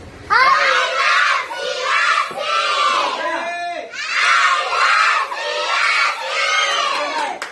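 A crowd of children shouts together at a snack-giving event in Siasi district, with two long, loud group yells separated by a brief pause, close and energetic.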